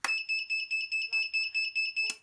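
A racing drone's buzzer sounds a rapid series of about nine evenly spaced, shrill electronic beeps, close and clear, with no other sound around it.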